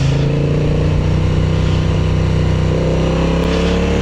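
An adventure motorcycle engine runs loud and close while the rider modulates the clutch, holding a steady raised rev with slight wavering in pitch.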